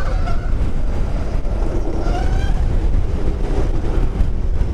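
A 2021 Zero SR/S electric motorcycle accelerating hard in sport mode, a loud, steady rush of wind and road roar with a faint rising motor whine running through it, close and continuous for the whole stretch.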